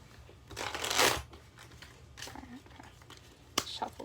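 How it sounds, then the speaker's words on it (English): A large deck of cards is shuffled by hand, giving a loud riffling burst early on, then softer flicks and a sharp snap near the end, with quiet talking mixed in. "this one's very large, so I apologize for the shuffling"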